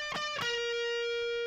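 A heavily distorted electric guitar plays a short phrase from a solo: two quick picked notes, then a single note sustained and ringing out, heard alone.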